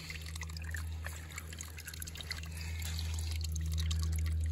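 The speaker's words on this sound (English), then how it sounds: "Letting the water flow, push out any small debris." Water trickles and splashes steadily outdoors from a repaired, leaking Irritrol 2400T irrigation sprinkler valve, flushing debris, with a low constant hum beneath the flow that grows slightly louder toward the end.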